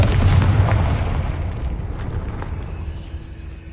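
A Confringo fire spell from Hogwarts Legacy bursts in a loud booming explosion at the start, then rumbles and fades over a few seconds.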